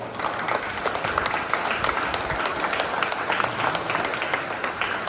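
A school audience at a Christmas celebration claps together in a dense, sustained burst of many hands, steady and fairly loud from start to finish with no voices over it.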